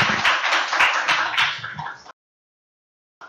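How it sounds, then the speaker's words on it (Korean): An audience at a lecture on the Communist Manifesto applauding to welcome the speaker, a short burst of close hand clapping with a few sharp individual claps, ending abruptly in silence. "이제 강연의 발제자를 큰 박수로 모셔보도록 하겠습니다."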